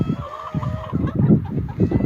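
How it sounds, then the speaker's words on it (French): A small backyard flock of three hens and a rooster clucks nearby in low, repeated throaty bursts, with a thin higher call threading through, loud and close with no talk. "il y a 3 poules et un coq pour moi"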